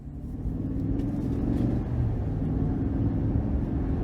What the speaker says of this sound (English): take this 2023 Chevrolet Silverado 1500 work truck out on the road for a quick test drive